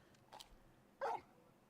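A dog in Final Fantasy XVI gives two short barks, a faint one early and a louder, sharper one about a second later, with quiet game ambience around them.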